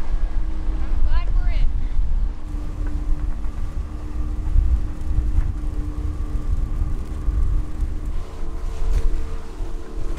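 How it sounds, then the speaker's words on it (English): A Corsair 880 trimaran motoring through a channel toward Key Biscayne, Florida: a steady low engine drone mixed with wind buffeting and water noise, with a faint voice now and then. "We're just motoring on in through the channel now, heading for Key Biscayne"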